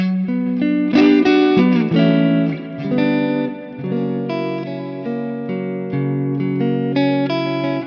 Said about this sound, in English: The 45 now is a powerful amp, so maybe there's a little more compression on this